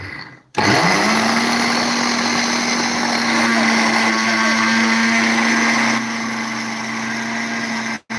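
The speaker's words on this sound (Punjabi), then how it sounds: "ਜਿਹੜਾ ਆਪਣਾ ਚਾਹ ਵਾਲਾ ਮਸਾਲਾ ਉਹ ਆਪਾਂ ਗ੍ਰਾਈਂਡ ਕਰ ਰਹੇ ਆ" An electric grinder pulverizing tea masala spices starts with a sudden loud whir, holds a steady high motor drone for several seconds, drops slightly in pitch partway through, then cuts off abruptly.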